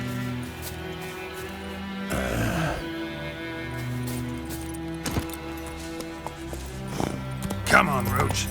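Roach the horse galloping in The Witcher 3: Wild Hunt, rhythmic clip-clop of hooves running under game ambience, with a brief whinny and a short spoken line.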